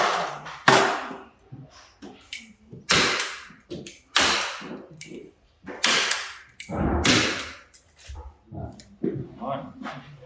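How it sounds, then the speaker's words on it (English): A staple gun fires into metal corner bead on drywall, several sharp loud snapping shots at irregular intervals, close, with a person talking between them. "You can just staple it off with a small curve, since we can't really see that."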